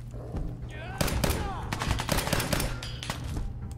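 Rapid auto pistol gunfire in Fallout 4, loud sharp bursts of shots with dense rattling rounds and echoing impacts, with a voice heard faintly in places.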